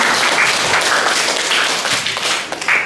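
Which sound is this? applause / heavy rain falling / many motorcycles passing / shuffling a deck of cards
applause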